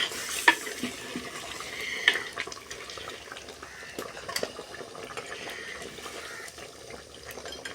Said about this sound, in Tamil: இது நல்லா கொதி வரட்டும் நல்லா கொதிச்சு